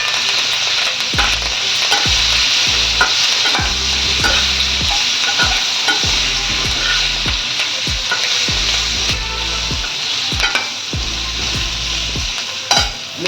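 Green chillies for an instant pickle sizzle loudly in hot oil while a spoon stirs them, steady crackling frying under repeated scraping strokes, close up and without talk.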